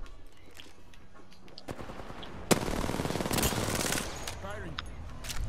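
Rapid automatic gunfire rings out in a video game. A loud burst of about a second and a half follows a quieter opening, and players talk around it.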